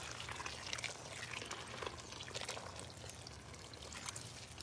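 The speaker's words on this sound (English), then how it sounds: "I'm gonna hit that with some water from the creek." Creek water is poured onto a growing plant, making a soft, continuous splashing trickle that runs steadily throughout. It is faint and close, with no talking over it.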